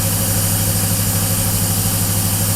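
A Cadillac engine idles steadily at about 1400 RPM on its first start, fitted with an Aces fuel injection system and still having a PDM fault, a loud, constant close rumble with no pauses.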